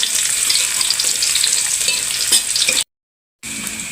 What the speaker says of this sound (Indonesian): Kita numis sawi.